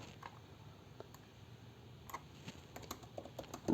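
Someone types on a computer keyboard while building a developer portfolio page. Soft, scattered key clicks come in short irregular bursts, quiet and close, with a few sharper taps toward the end.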